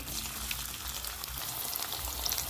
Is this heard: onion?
yes